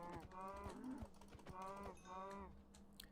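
Several drawn-out cow moos from Minecraft livestock come one after another with short gaps, loud and close, with some clicking beneath them and no talking.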